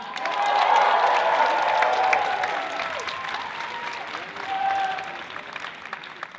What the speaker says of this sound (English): So everybody, just show some love for Peyam, Eric, and Serena.